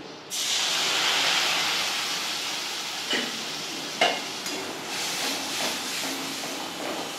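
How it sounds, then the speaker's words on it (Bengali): Poppy seed and green chilli paste hits hot oil with a loud, steady hiss of frying that settles into continuous sizzling, broken by a few sharp scrape and stir clicks from a spoon in the pan. "পোস্তটাকে ভেজে নেব"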